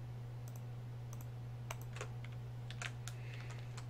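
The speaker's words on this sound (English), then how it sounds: "Doing this constantly on the keyboard gets your hands really cramped too." Typing on a computer keyboard during a Pokemon Soul Silver randomizer stream, quiet scattered key clicks in irregular bursts over a constant low electrical hum, with no voices.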